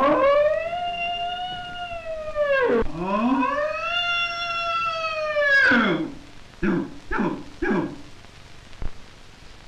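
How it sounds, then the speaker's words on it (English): Bull elk bugling in the autumn mountains of Jackson Hole: long rising-and-falling whistling calls, followed by a series of short grunting chuckles, clear and fairly close. "Listen, the mountains are ringing with the music of bugling elk."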